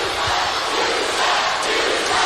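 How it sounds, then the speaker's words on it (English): A rowdy WWE arena crowd in Austin, Texas roars and boos in a dense, loud, continuous wash of voices. "It's just a rowdy crowd."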